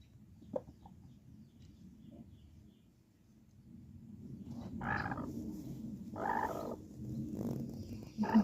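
A hen with newly hatched chicks makes soft, low clucking and murmuring close by, with a few louder clucks and calls growing more frequent in the second half; no talk.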